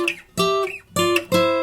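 Plucked acoustic guitar playing a short hybrid-picked riff, with a few clear, ringing notes struck in quick succession, close and alone.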